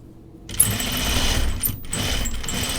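A squeaky sewing machine stitches a tunic in a fast, steady whir that starts abruptly after a short silence, breaks off briefly, then resumes, loud and close with no talking.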